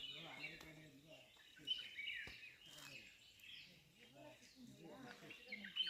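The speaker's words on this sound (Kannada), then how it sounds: "ಹಕ್ಕಿಗಳ ಚಿಲಿಪಿಲಿ ಕೇಳಿಸ್ತಿದ್ಯಾ?" Faint bird chirps and tweets in the distance at sunrise in a rose garden in Chikmagalur, Karnataka, scattered high calls heard beneath a person talking.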